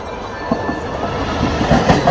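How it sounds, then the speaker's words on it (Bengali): The Howrah–Digha Tamralipta Express rolls along with a loud, steady rumble and faint rhythmic clatter from the wheels, heard close from inside the train. "এবার এই ট্রেনটা ভাগাবে"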